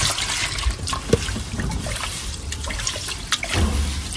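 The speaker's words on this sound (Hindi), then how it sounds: "अब जा रहे पापा ये चावल बनाने के लिए, इसको पहले धोना पड़ेगा, पानी तो है यहाँ" Water trickles and splashes steadily as it is poured over raw arwa rice to wash it before cooking outdoors, with a few brief louder sloshes near the end and no talking.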